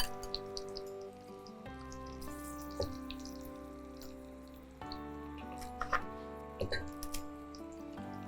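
A little water is poured into a pan of whole spices for pineapple hilsa curry, giving quiet splashes and drips with a few light clinks.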